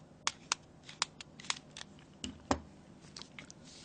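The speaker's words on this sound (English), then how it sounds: "keep undoing it until you can hear it clicking" T4 screwdriver undoing a small screw on a Nokia Lumia 1020 phone during an LCD replacement, a series of sharp tiny clicks in an uneven rhythm, close and quiet against faint background hiss.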